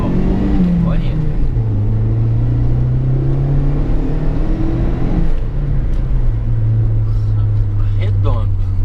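A Chevrolet Tracker 2.0 16V turbo with an FT500 Lite injection system idles and runs smoothly, a steady low engine drone with slight pitch shifts as it settles, under continuous conversation.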